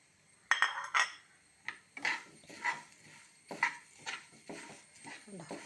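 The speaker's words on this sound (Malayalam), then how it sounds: "പഞ്ചസാര ഉരുകി നമുക്ക് ആ അവലിട്ട് കൊടുക്കാം." Flattened rice (aval) tipped into melted sugar in a pan and stirred, giving a series of sharp scraping clinks of a utensil against metal, irregular and close, over a quiet background.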